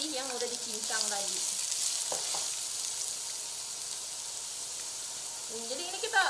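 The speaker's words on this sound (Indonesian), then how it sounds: "Nah ini kita tumis si bawang bombay dan bawang putih yang udah dicincang tadi." Chopped onion and garlic sauté in a pan with a continuous bright sizzle and occasional stirring scrapes, while people talk over it at the start and again near the end.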